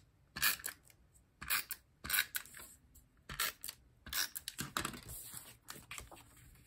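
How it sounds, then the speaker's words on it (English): A paper trimmer cutting designer series paper, a run of crisp sliding and clicking strokes in uneven bursts, close and fairly quiet, with no talking. "I'll line it up at 2 3/4 and trim that off"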